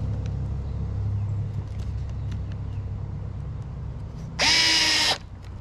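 A Fanttik NEX L1 electric screwdriver drives a screw in one short, loud, high-pitched whirring burst lasting under a second, heard outdoors over a quieter background rumble.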